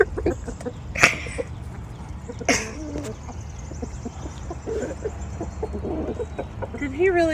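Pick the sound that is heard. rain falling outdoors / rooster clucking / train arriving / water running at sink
rooster clucking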